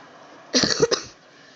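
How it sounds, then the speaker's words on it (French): A person with a cold coughs a few times in quick succession, a short close burst of harsh coughs against a quiet background during a video game session. "j'ai un peu la crève, donc j'ai toussé là"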